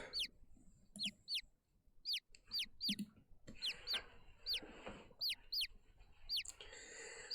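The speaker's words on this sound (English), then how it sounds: "Look at all these chickens!" Chickens in the video game The Great Ace Attorney Chronicles cluck and squawk in short, repeated calls, several birds close by, with quiet gaps between bursts and no talking.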